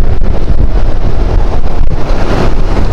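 Strong, steady wind roars and buffets the microphone with a dense low rumble in Pitogo, Quezon, Philippines, gusting continuously throughout with no voices.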